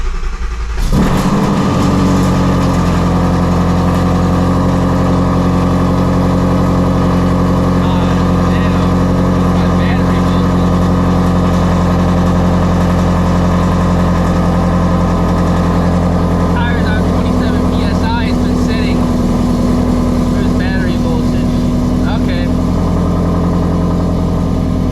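A car that has sat unused for two weeks cranks and fires up after a moment of silence, then settles into a loud, steady idle close at hand, with faint voices over it.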